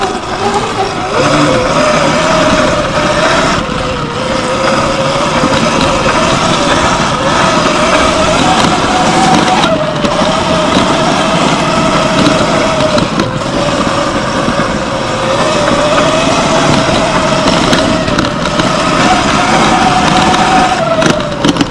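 A Surron X Light Bee electric dirt bike drifts along a dirt trail, its rear wheel sliding out; a steady loud whine and rushing tire and wind noise run continuously throughout.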